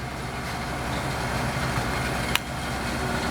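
Hardinge HLV-H precision toolroom lathe with its spindle spinning at 3000 RPM, a steady, even machine hum with faint whine and one brief sharp click near the end.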